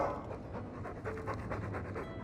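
A Mabari war dog in the Dragon Age 2 video game pants steadily and rhythmically throughout, close and fairly loud, with no talk over it.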